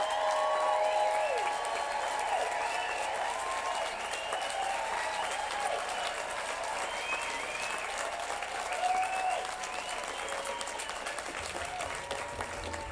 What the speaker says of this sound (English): Give us your applause.